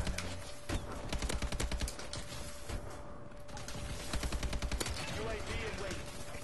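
Hipfire from an AK12 rifle in a free-for-all first-person shooter match, with rapid bursts of shots crackling over a busy mix of game effects and a steady background tone.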